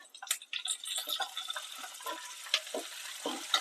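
Curry leaves crackle and spit in hot oil in a pan while puliyotharai is being made, giving quick bursts of sizzling with a few stirring scrapes close by, moderately loud.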